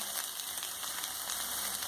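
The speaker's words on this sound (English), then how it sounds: "see, on slow flame how nicely they are getting roasted" Aloo tikkis roasting in a pan over a slow flame give a steady, close sizzle and gentle crackle that runs on without a break, with no talk over it.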